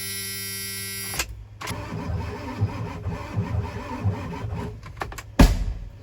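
A barn-find Ford F250 with a 7.3 Powerstroke diesel cranks hard, its rough, labored churning running for several seconds before a sharp bang near the end, loud and close with no talk.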